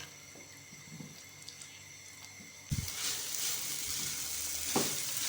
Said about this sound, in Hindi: स्पैचुले या चम्मच की मदद से आपने यूं इस तरह से करके उन गुठलियों को तोड़ते जाना है।